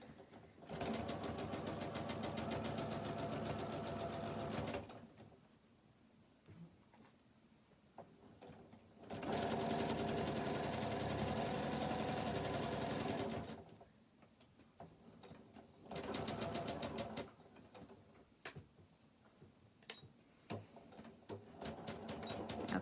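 A sewing machine stitches a pencil pouch seam in three sustained whirring bursts, separated by quieter pauses with small clicks and handling sounds, and no talking.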